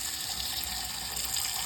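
Water runs steadily into a cooking pot as it is filled to boil yam, a continuous close splashing stream from a tap that stops abruptly, with no talk.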